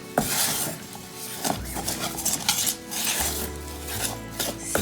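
Citric acid paste being stirred in a saucepan off the heat, giving a steady scraping, rubbing rattle of a utensil against the pan with a few clinks, close and continuous.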